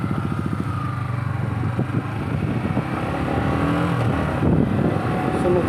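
A Yamaha MT-15 motorcycle engine revs and pulls away, a steady loud motor drone with pulsing exhaust beats throughout, briefly overlapped by faint voices.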